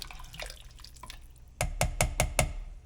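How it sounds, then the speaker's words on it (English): Turkey soup broth made from leftover Thanksgiving turkey is stirred in a pot, giving a short run of five or six close, wet sloshing knocks after some quieter liquid sounds. "Give it a stir."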